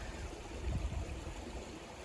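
Creek water flowing beside ice formations along the Appalachian Trail in March, a steady broadband rush heard up close with no talk over it.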